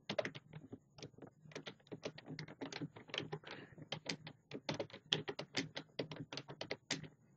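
Close, quiet computer keyboard typing during an HTML coding lesson: a steady, fast stream of key clicks with a brisk uneven rhythm runs throughout, with no talking.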